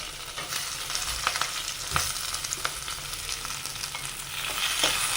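Chopped ginger, slit green chillies, curry leaves and tomato frying in a pan for a coconut fish curry, giving a dense continuous sizzle with occasional stirring scrapes, close and fairly loud, with no speech.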